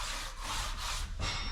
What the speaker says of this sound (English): I'm going to ream it the other way.